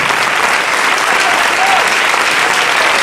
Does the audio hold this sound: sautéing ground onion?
no